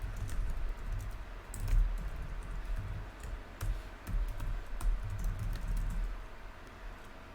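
Steady, fast clicking of computer keys being typed, close and fairly quiet, continuing without pause and with no voices.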